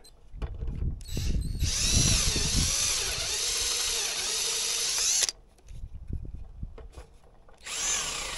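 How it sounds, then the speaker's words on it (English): A power drill bores bolt holes while a rolling library ladder is fitted in a pantry, whining loudly in two long runs of several seconds each, with a third burst starting at the end and quieter handling noises between. "drill my holes, put my bolts in"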